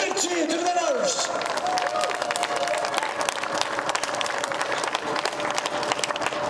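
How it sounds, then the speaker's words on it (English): Crowd at a motocross Grand Prix in Sweden applauding and cheering the race winners at the trophy ceremony, a steady dense wash of clapping and shouts with a few rising whistles early on. "And a big cheer to the winners."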